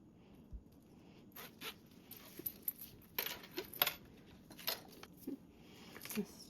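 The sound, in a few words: zipper being handled on a sewn bag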